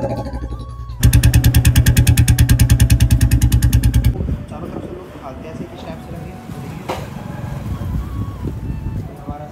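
A modified Royal Enfield Bullet 350 motorcycle cranks and fires up, thumping in a loud rapid rhythm for a few seconds, then settles into a steady close-up idle with faint talk beneath.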